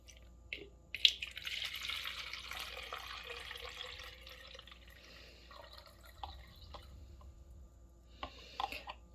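Water pours into a container for a homemade snow globe, a continuous splashing trickle that fades and tails off into a few drips and small clinks, quiet and close with no talk.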